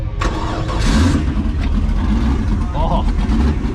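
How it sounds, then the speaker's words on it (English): A twin-turbo LS1 V8 in a wide-body Nissan Skyline cranks and catches, settling into a loud, rough rumble close by, with a brief rising rev mixed with people talking around the car. "Alright, let's fire it up."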